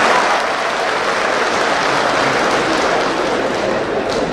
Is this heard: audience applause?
yes